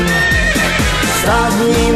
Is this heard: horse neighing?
yes